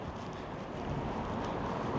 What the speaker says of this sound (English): it's a bit windy, so it's kind of chilly.